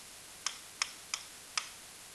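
A calculator keypad being typed on, four crisp, evenly spaced clicks, close and fairly quiet against a faint steady hiss, with no talking.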